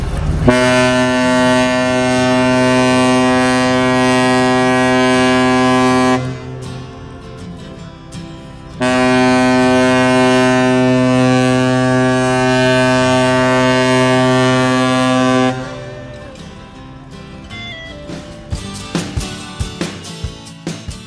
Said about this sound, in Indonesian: Sebentar lagi kapalnya mau klakson, jam 12:30, klakson 2 kali, pertanda mau berangkat setengah jam lagi